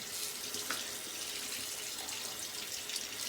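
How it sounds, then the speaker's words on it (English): Cold tap water runs steadily into a sink to rinse a Karve SS Trafalgar T3 safety razor, a constant close hiss and splash with no talking. "We're going for a cold water rinse here"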